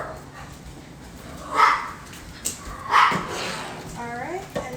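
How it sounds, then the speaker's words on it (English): A dog barks a couple of times in short, sharp bursts, followed by a faint whimpering yip, fairly close by. "Sorry for my dog barking."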